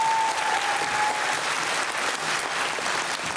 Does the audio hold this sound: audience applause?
yes